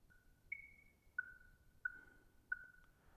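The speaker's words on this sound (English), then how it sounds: "The sound you hear is the sound of a metronome, with beat 1 accented for you." A metronome ticks at a steady moderate tempo, with a higher-pitched accented click on the first beat and lower electronic beeps after it, faint and evenly spaced.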